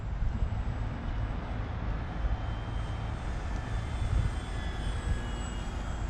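A light aircraft engine drones steadily at about half throttle in flight, a loud, continuous, close hum with no talking.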